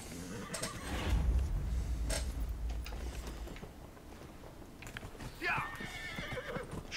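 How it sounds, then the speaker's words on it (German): Horse neighing with clip-clopping hooves in the fantasy game Dragon Age Inquisition, a clear whinny rising near the middle over steady hoofbeats and low rumble, with some speech-like sound mixed in. "Pferdchen!"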